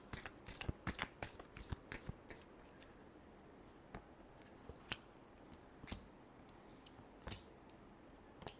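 Tarot cards are shuffled by hand in a quiet room, giving a quick flurry of crisp riffling snaps early on, then sparser single flicks and taps, close but soft.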